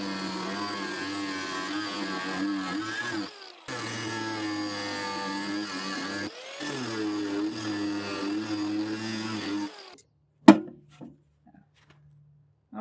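Stuck screws being cut off copper scrap with a power tool, a steady loud grinding whine in three long bursts with short pauses, then falling quiet with a few faint clunks.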